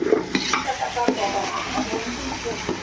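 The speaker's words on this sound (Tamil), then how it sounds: "அப்புறம் பச்சை மிளகாவும் தக்காளியும் போட்டு மிக்ஸ் பண்ணிக்கலாம்." Tomatoes and green chilies stirred into chicken biryani in a pan: close sizzling with repeated spoon scrapes and clinks against the metal, a few faint voice sounds underneath.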